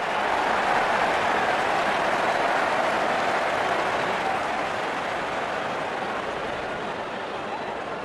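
Sustained clapping and crowd noise fill a cricket stadium during Rajasthan Royals against Sunrisers Hyderabad, a broad, even roar that fades slightly toward the end.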